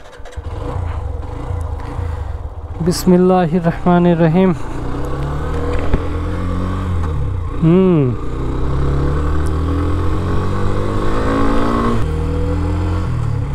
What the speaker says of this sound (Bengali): বাইকটাকে স্টার্ট দেই।